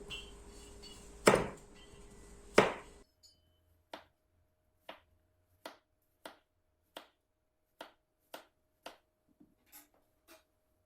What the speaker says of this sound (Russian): Овощи я буду резать постепенно.